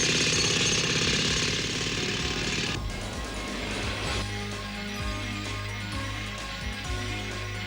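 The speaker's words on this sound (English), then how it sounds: "As soon as Skeletor is through cutting the underside, our meteor will be ready for launch" A cartoon cutting machine grinds loudly into the underside of a meteor, a harsh continuous jackhammer-like rattle with a bright hiss that drops into a lower, steady mechanical chugging partway through.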